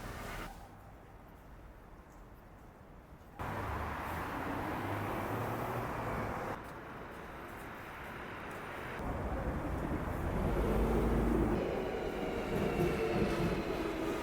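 Interior of a moving Busan metro train heading to the north of the city, with a continuous loud rumble and rushing hum that shifts in tone as the carriage speeds up and passes through sections.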